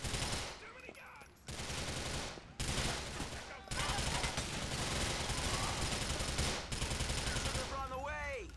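Dense video-game gunfire from GTA IV, sustained bursts and fusillades with brief pauses and gaps, loud and close, with a few shouted voices mixed into the chaotic firefight.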